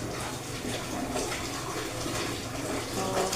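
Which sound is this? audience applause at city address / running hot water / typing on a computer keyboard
running hot water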